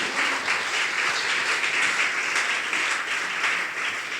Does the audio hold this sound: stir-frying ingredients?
no